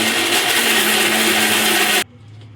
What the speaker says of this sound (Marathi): थंड झाल्यानंतर आता आपल्याला इथे तो मिक्सरला लावून घ्यायचा आहे।